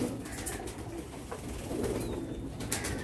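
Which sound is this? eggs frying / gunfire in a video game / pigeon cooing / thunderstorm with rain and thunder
pigeon cooing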